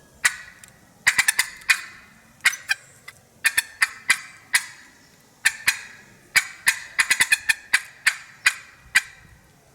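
Rapid bursts of sharp, clucking calls from a turkey box call imitating a hen come in quick clusters, hen-like and fairly close, with brief pauses between runs.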